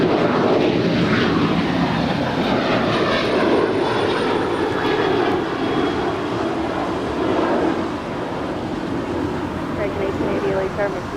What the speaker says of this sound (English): This is American Airlines Flight 669 departing to Chicago O'Hare. It's a Boeing 737-800.